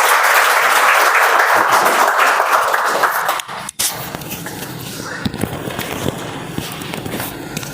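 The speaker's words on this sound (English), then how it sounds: "Please give me a big round of applause." Applause from a Toastmasters meeting audience, loud and dense for about three seconds, then thinning after a sharp break into scattered lighter claps and shuffling, with a few distinct louder hits.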